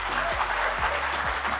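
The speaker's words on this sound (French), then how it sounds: "Je voudrais d'abord beaucoup d'applaudissements pour toute l'équipe du Grand Café." An audience at a café performance applauds the café team, a dense continuous wash of clapping with a low hum underneath, brief and moderately loud.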